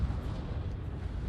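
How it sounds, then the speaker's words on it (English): Superstructure explosion on a warship in a naval combat video game, a dense, sustained low rumbling boom that fills the whole moment at moderate loudness with no talk over it. "the superstructure explosions are kind of nifty"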